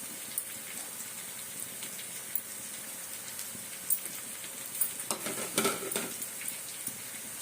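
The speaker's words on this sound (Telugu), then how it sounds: "బాగా వేయించుకోవాలి. పచ్చిమిర్చి ముక్కలు," Green chilli pieces frying in oil for chicken fry, a quiet steady sizzle with occasional light stirring taps, growing busier and louder with scraping toward the end, no voices.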